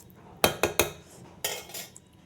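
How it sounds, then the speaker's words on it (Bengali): A utensil scrapes and knocks against a pan while banana flower coated with flour is stirred and mixed: three quick sharp strokes, then a longer scraping pass, over a quiet background. "এবার এইভাবে নেড়ে মিশিয়ে দিলাম"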